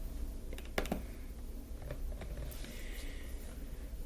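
Faint, quick keyboard typing on a Chrome OS computer, a short burst of key clicks followed by a few sparse taps over a steady background hum.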